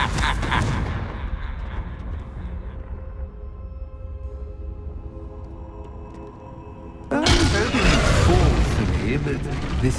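A Confringo blasting spell in Hogwarts Legacy explodes in a loud, booming burst, then a rumbling tail fades over several seconds before a second heavy blast erupts near the end, all amid game ambience.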